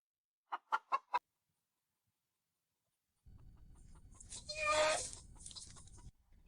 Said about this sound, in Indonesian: Di villa sebagus ini, kenapa banyak ayam banget sih?